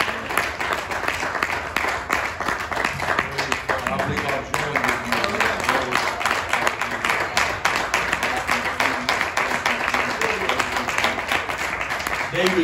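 A church congregation claps together during a revival service, a long run of rapid, fairly loud applause continuing throughout with voices mixed in underneath.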